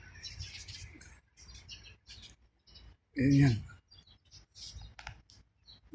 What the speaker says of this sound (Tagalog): Ingay ng ibon.